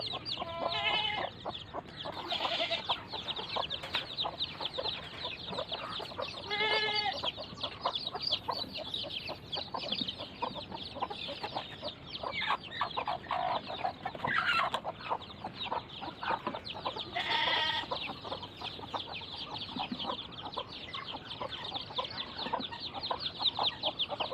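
Newly hatched chicks peeping with repeated high chirps, mixed with a mother hen's clucks nearby, continuous and fairly close throughout.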